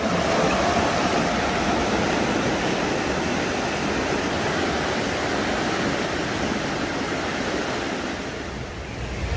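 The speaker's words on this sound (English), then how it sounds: "Beautiful to finally see a river." A wild trout river rushes along close by in a constant, loud, broadband roar of flowing water, steady throughout with no talking.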